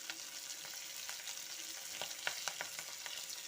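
Dried red chillies fry in oil, a soft continuous sizzle broken by light popping crackles and stirring taps, fairly quiet and close, with no voices.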